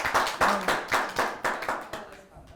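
A small audience claps in a loose rhythm, about a dozen sharp, fairly close claps that slow and fade toward the end.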